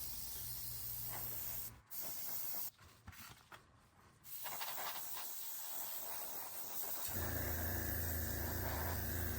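An airbrush sprays a gloss black coat over a 1/48 Tamiya P-47D Thunderbolt model airframe, giving a steady close hiss in long bursts broken by short stops, with a compressor hum under it.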